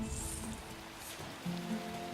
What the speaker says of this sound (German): Nirgends, es regnet.